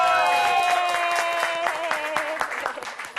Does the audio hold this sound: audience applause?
yes